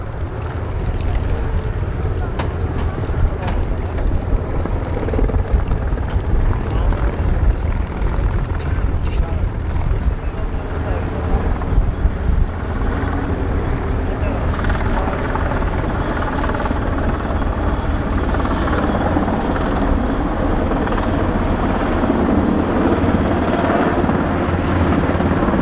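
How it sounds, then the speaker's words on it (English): A helicopter's rotor thrums continuously and loudly at an airshow at Duxford, a dense throbbing roar that holds steady throughout with faint voices underneath. "the helicopter will turn back inbound in order at 100 feet air to ground"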